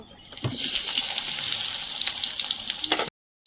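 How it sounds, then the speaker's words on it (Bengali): Pointed gourd (kakrol) frying in oil in a home kitchen, a steady close sizzle with faint crackles that runs for about three seconds and then cuts off abruptly. "তেলে কাঁকরোলটা দিয়ে দেব"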